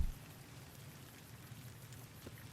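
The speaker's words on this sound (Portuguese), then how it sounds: "chuva, hein?" Rain falls in the video game Fallout: New Vegas, a faint, steady patter of drops with a low rumbling undertone throughout, with no other sounds over it.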